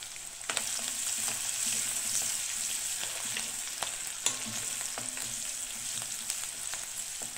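Garlic and ginger fry in coconut oil in a pan for a Kerala-style prawn coconut fry, producing a steady, close hiss of sizzling broken by occasional stirring clicks and scrapes.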